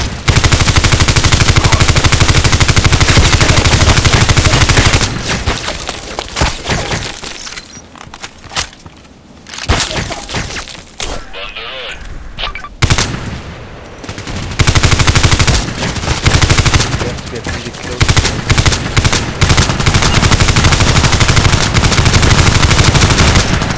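Colt IAR machine gun bursts in the online shooter Contract Wars, loud sustained automatic fire that drops out for several seconds midway, then resumes in dense, continuous volleys.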